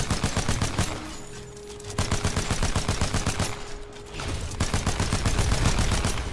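Sustained automatic gunfire in Titanfall 2, fired at the Titan BT, rattling off in rapid loud bursts with a brief lull midway and another near the four-second mark.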